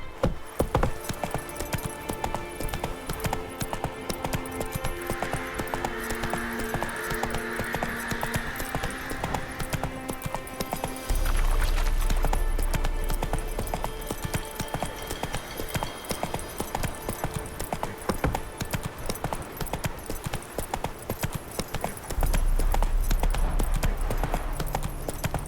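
Horse galloping in The Witcher 3: Hearts of Stone, a fast rhythmic clip-clop of hooves running steadily under game music, with louder bursts partway through and near the end.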